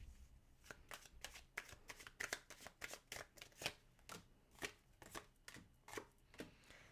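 A deck of tarot cards is shuffled in a quiet room during a reading, giving a rapid series of crisp riffling flicks and slaps, close and alone, with no talk.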